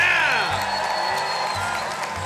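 A sold-out live audience at a Music City Roots concert cheers and applauds, a steady wash of clapping and whoops that stays loud and close throughout.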